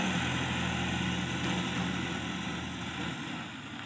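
A tractor engine running while pulling soil at a brick-making site drones loudly and steadily at close range, with no speech.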